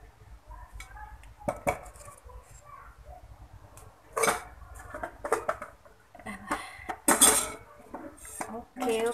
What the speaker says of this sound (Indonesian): Jadi saya mau langsung saja tuangin ke piring.